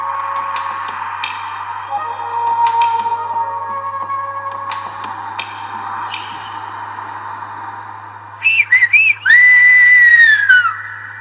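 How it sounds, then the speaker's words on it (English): Shrill Gomeran whistled language carries across open air on La Gomera in the Canary Islands, sliding pitches and sharp bursts like whistled signals, ending with a loud, close, gliding whistle. "The Gomeran whistle is in the island, and is the history of the island."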